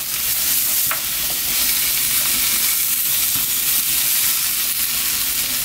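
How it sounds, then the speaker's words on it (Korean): Vegetables stir-fry in perilla oil in a hot pan for bibimbap namul, giving a loud steady sizzle with continuous hiss and light scraping of stirring throughout. "저처럼 들기름 있으신 분들은 이렇게 들기름으로 볶으시면 됩니다"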